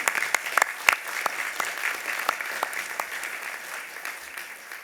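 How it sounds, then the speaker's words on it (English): Audience applause at a university graduation ceremony for the Faculty of Health, steady clapping across the hall that fades gradually toward the end, with a few sharper individual claps standing out. "I think that deserves a round of applause, don't you?"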